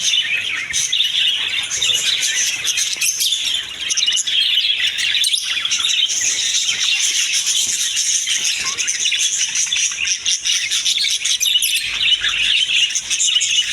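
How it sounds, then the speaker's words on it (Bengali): Many small caged birds at a market bird shop chirp and tweet continuously, a dense, bright chorus of overlapping high calls close by, with no voices. "অনেক সুন্দর কালারফুল পাখি"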